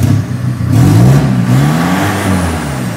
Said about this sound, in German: Jetzt lassen wir mal laufen den Wagen. Und hören mal, wie der läuft